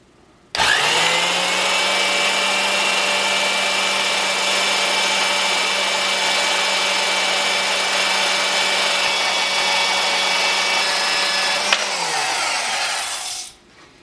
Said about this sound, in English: I remembered the portaband this time, so I don't have to use the Sawzall.